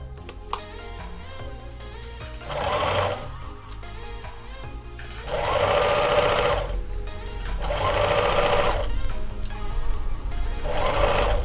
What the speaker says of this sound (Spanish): ahora voy a coser